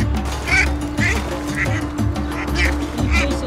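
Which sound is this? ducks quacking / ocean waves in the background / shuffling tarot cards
ducks quacking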